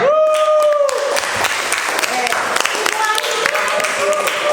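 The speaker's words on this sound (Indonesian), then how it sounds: "terima kasih, aplaus buat kita semua" A classroom group claps together at the end of a lesson, a steady wash of applause running the whole time under a voice speaking over it.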